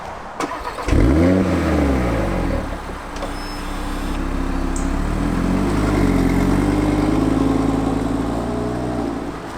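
A 2020 Audi RS3 starts up and pulls away, its engine rising sharply in a loud rev before settling into a steady, strong hum as the car drives off, heard close by with no talking.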